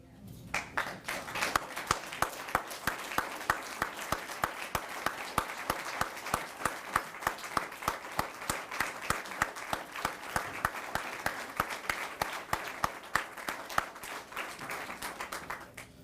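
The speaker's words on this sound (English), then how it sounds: "give a round of applause in the memory of Sam Kissinger" A village meeting audience stands and claps in memory of a late community member, producing sustained, fairly even applause of many hands that runs unbroken throughout, with occasional sharper individual claps standing out.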